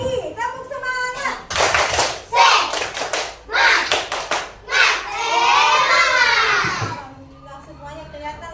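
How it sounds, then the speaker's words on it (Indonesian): Young children in a classroom perform a rhythmic spirit clap, bursts of loud, quick hand claps in a patterned sequence mixed with their chanting voices, ending in a shared shout, close and lively. "Lagi, tepuk semangat."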